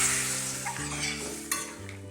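Water goes into fried spice masala and tomato in a pan for a Bengali fish curry, bursting into a loud hiss that settles into bubbling sizzle while a spoon stirs and scrapes against the pot, close up.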